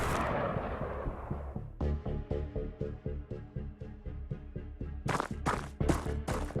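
Gunfire from the tactical strategy game Xenonauts rings out as a rapid series of sharp, evenly spaced shots, loud and close, with a denser burst near the end and no voices over it.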